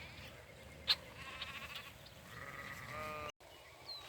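A lamb bleats a few times in short wavering calls, faint and somewhat distant over a soft outdoor background, with sheep nearby grazing on brambles and weeds.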